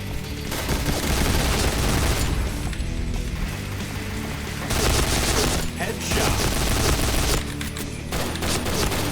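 An UZI Recamo submachine gun in the shooter game Point Blank fires long, dense automatic bursts, loud and close, broken by brief pauses between strings of shots.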